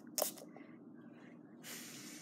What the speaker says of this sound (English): I'm gonna spray it carefully.